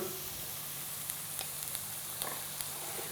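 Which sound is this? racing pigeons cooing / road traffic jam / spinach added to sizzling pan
spinach added to sizzling pan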